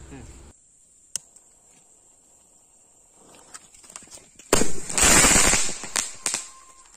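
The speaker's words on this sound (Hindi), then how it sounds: "नेक्स्ट आता है हमारा स्काई शॉट। तो चलिए इसको चलाते हैं।" A Diwali sky shot firework is set off. A faint click comes first, then a loud, close whooshing burst of about a second, followed by a few sharp pops, over a steady high hiss.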